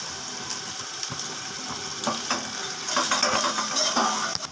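Coconut paste and a few green chillies fry in a pan with a steady crackling sizzle, overlaid by scraping stirring strokes that grow busier and louder toward the end; no voices.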